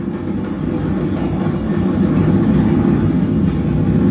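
A Falcon 9 rocket roars steadily during launch as its engines throttle down, giving a dense, constant rumble with no pauses.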